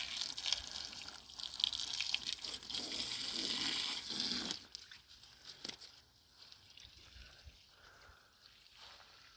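Water running and splashing over stone and ground at a building site during pumping-out work, a steady broadband rush for the first half that drops to a quieter trickle with scattered drips.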